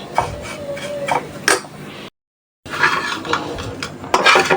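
Vermicelli (semai) frying in a pan while being stirred, with scraping and clinking of a utensil against the pan in uneven bursts, close and fairly loud, broken by a brief silent gap.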